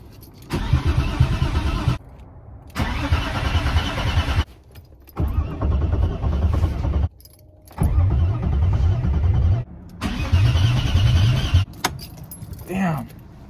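A BMW E36 with a swapped M50 engine cranks over in five long bursts of starter grinding separated by short pauses, close and loud, without catching.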